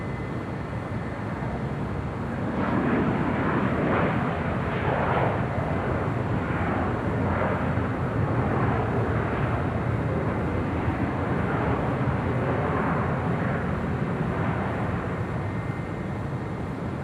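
An American Airlines airliner takes off from runway 25 right at LAX, a steady loud jet roar that swells after a few seconds and holds broad and rumbling throughout, with no voices.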